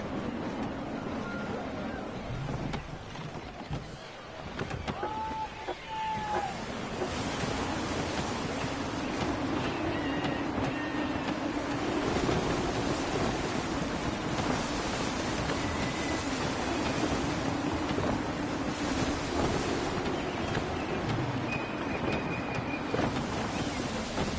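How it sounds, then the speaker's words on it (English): Gusty wind and sea surf in Assassin's Creed 3, a steady broad rush of wind and waves running the whole time with a few faint tonal cries and creaks mixed in. "Gusty winds can be difficult to manage."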